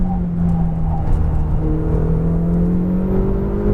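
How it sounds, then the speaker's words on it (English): A Ferrari 488 GTB engine pulls at full throttle on a race track, heard from inside the car as a loud, rising drone that climbs steadily in pitch as the car accelerates, with a faint whine above it. "Back on the throttle now. Full throttle."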